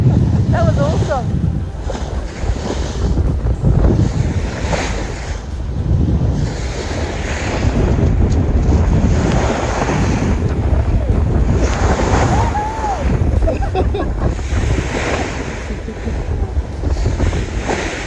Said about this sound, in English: Some big waves going through here.